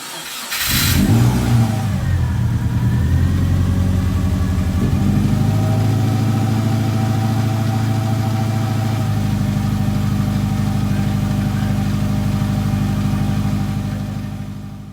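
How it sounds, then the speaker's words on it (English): A rebuilt Subaru EJ25 boxer engine in a 2007 Impreza cranks briefly, catches and flares up in revs, then settles into a steady loud idle close by that holds for the rest of the clip. "the idle keeps dropping lower and lower as the engine climbs to temp"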